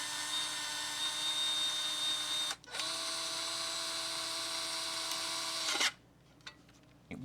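A 7.2V pen driver fitted with a Vessel hybrid slotted/Phillips bit runs at low speed with a steady, close motor whine. It cuts out briefly, resumes at a slightly lower pitch, then stops near the end.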